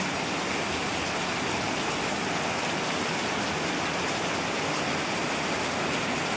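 A steady, loud downpour of habagat monsoon rain hisses without letup, a thick wash of water drumming on surfaces close by, with no talking.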